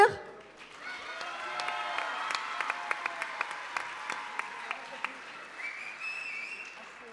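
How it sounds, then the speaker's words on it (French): An audience applauds a contestant at an amateur talent evening, a steady moderate clatter of hands broken by sharp whistles and a few cheers, fading out after several seconds. "on va l'applaudir"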